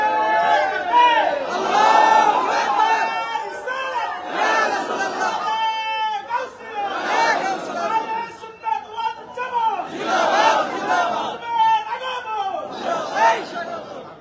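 A large crowd at a religious waz mahfil gathering in Station Road, Chattogram chants a slogan together, loud rhythmic call-and-response bursts of many voices repeating in waves, with a leader's voice audible between them.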